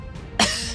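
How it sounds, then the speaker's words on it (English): A single harsh, close cough breaks out abruptly partway through, with a rough, noisy tail that fills the rest of the short clip. "the dryad starts to experience this pretty bad coughing fit"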